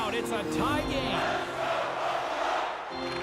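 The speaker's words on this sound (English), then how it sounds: "You can feel the energy in this crowd." A hockey arena crowd in the video game NHL 24 roars and cheers in a loud, sustained wash, with an announcer's voice talking over it.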